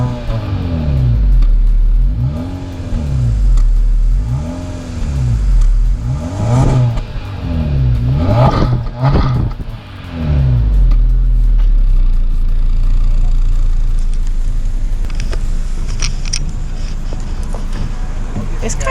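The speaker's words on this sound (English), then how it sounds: "we're gonna step out and we're gonna get some revs" A 2022 Honda Civic Sport engine revs repeatedly in rising and falling sweeps, loud and close, with a few hard blips before settling into a steady idle-like drone, with people talking over it.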